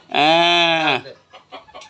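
A village chicken lets out one loud, drawn-out harmonic squawk close by, followed by a few fainter short clucks.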